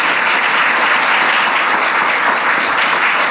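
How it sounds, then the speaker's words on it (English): An audience at a games-industry keynote gives a round of applause for the speaker Astrid. The clapping is loud, dense and steady throughout, with no voices over it. "Thank you so much, Astrid, and I'll get another round of applause for that one as well."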